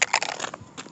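Sharp plastic crunching and cracking as a handheld hangman game is stomped on, several hard impacts in quick succession, close and loud, then trailing off into quieter rattles.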